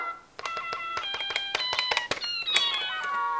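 Bright, plinky electronic notes from a toy keyboard form a short melodic meow-like phrase, repeated several times close up with no voices.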